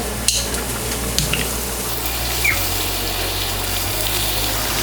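A tortilla frying in bubbling oil in a home kitchen, giving a steady fizzing sizzle with a low continuous hum beneath and a few faint clicks and taps.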